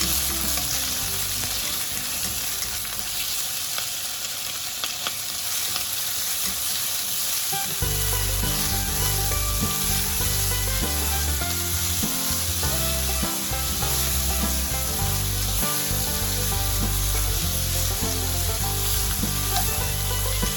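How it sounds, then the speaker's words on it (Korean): Button mushrooms and bacon sauté with golden garlic in a pan, producing a loud, continuous sizzle throughout, with music playing underneath. "양송이 버섯과 베이컨을 넣고 역시 잘 익을 때까지 볶아주시고요"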